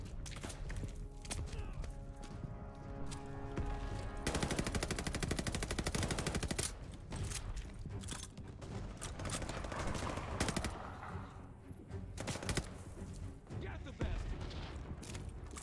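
Heavy battlefield gunfire in Call of Duty Vanguard's campaign: continuous machine-gun bursts and rifle shots with occasional booms, loud and sustained throughout, with a voice talking over the shooting.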